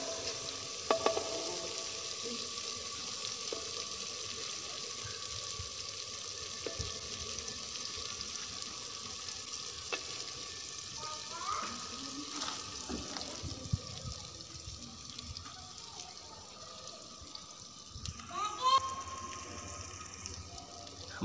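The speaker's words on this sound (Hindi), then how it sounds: "हमारा मसाला अच्छी तरह से भुन चुका है" Masala spices fry in a pan for a Punjabi recipe with a soft, steady sizzle and occasional stirring scrapes, faint and close with no talking.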